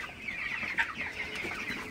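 Broiler chickens about 22 days old in a poultry shed cluck softly and steadily at a distance, a low, continuous murmur of bird calls with one slightly louder cluck.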